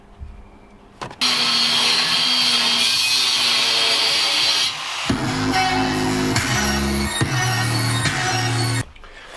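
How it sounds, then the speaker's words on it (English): Angle grinder fitted with a flap disc cutting and cleaning the angle off metal race bucket seat brackets, a steady loud whining grind that lasts most of the time with shifting tone as it bears on the steel, no talking. "I've just cut the angle off these. Just a grinder and then a flap disc to clean up the edges"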